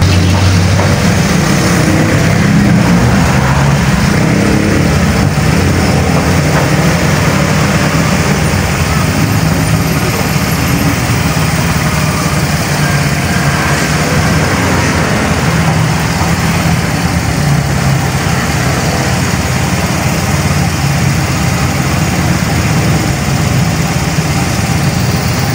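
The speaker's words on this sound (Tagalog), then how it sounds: "kailangan umandar po ang motor." Yamaha Mio motor scooter engine running steadily at idle throughout, a continuous low hum and rattle heard up close during electrical troubleshooting, with occasional talk in the background.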